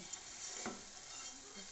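Chonge (caralluma) pieces drop into potatoes frying in a little oil, followed by a short soft sizzle and a brief stir. The sound is quiet and muffled, and no voice is heard.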